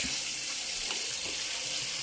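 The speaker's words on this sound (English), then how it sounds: "So you can pour hot water." Hot water pours into a hot pan while Swedish brown sauce for meatballs is cooked in a home kitchen, making a steady loud hiss and rush that lasts throughout.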